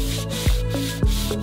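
Hand sanding with 120-grit sandpaper on the fairing of a boat hull gives a close, continuous scratchy rasp with rhythmic back-and-forth strokes, heard alone without talk.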